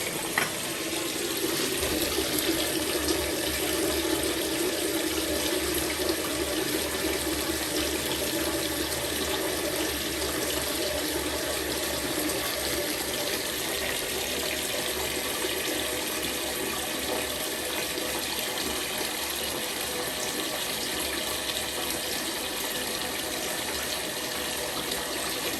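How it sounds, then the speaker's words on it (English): Tap water runs steadily into a bucket during a budget bathroom clean, a continuous close gushing fill that holds at an even level throughout with no talking. "you didn't just watch me for the next 10 minutes filling the water up, the bucket"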